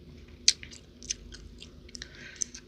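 Gum chewed close to the mic in an ASMR setting gives soft, irregular wet clicks and smacks, with a sharper snap near the start and scattered quieter ones after, and no talking.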